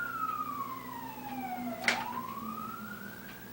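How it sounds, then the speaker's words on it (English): An ambulance siren sweeps past, its wail dipping sharply in pitch as it passes close by, then trailing off into the distance. "there goes the ambulance"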